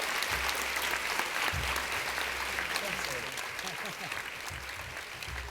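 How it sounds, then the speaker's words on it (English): An audience applauds for Peter Greste at the 2015 Human Rights Awards, a steady, dense wash of clapping from a sizable crowd that carries on throughout. Low voices murmur faintly underneath. "please give him a huge round of applause"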